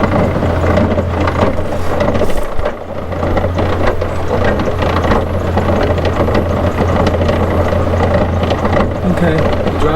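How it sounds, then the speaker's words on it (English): A drive shaft spins in two-wheel drive on a 600hp D-series powered car with a welded differential, giving a loud steady mechanical drone with rattling and a low hum from the rear axle. "Okay, the drive shaft is spinning"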